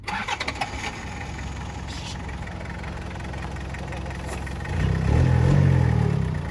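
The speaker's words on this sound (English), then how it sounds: "It'll like start first fire." A Toyota Hilux engine that has been through a durability test and has no coolant runs steadily, then revs up louder and rougher near the end of the clip.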